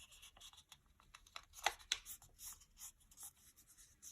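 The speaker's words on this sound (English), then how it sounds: "Now I'm going to fold my paper in half." A sheet of origami paper is folded in half and creased, giving soft close scratching and rubbing strokes with a couple of sharper swipes midway, and no speech.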